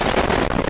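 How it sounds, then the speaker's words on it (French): A sudden explosion sound effect bursts in loud and dense, a short booming blast of broadband noise that rumbles briefly before cutting off abruptly. "Zéro. Explosion!"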